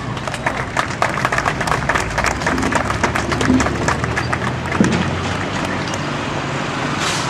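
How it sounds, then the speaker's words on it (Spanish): Strong applause from an audience at a tribute ceremony in Lambayeque, a dense steady wash of many hands clapping throughout, loud and continuous with no break. "Lo recibimos con fuertes aplausos."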